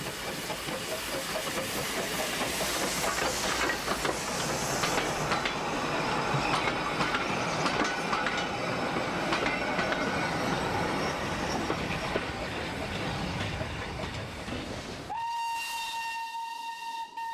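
A 125-year-old British steam locomotive running on rails, a dense rhythmic chuffing and clatter of wheels with steady hiss, ending in a sustained shrill steam whistle.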